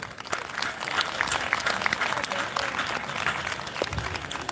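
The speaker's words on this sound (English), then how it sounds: "Warm round of applause," Warm applause from an audience at an India Day 2022 event greeting the Ambassador, a few seconds of lively clapping with a murmur of crowd voices mixed in.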